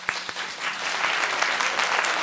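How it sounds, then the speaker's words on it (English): Audience applause breaking out for a maestro stepping onto a concert stage, a dense continuous clatter of many hands that holds steady and fills the space, with no voices over it. "The people seated to the left saw him first and began to applaud"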